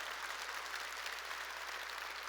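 A church congregation at a Sunday worship service applauds in a steady, dense wash of clapping, heard from a distance at moderate level, with no voices standing out.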